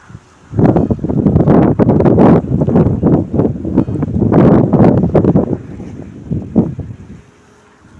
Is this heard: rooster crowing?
no